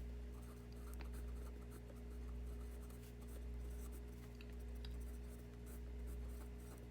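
A pen writes x and y values on paper with faint, close scratching strokes in short irregular bursts over a low steady hum.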